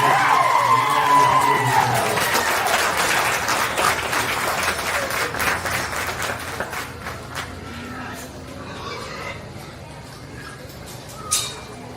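Applause from the crowd at a county fair swine show, a steady dense clapping close by that slowly thins and fades over several seconds, with a brief sharp sound near the end and no talk over it.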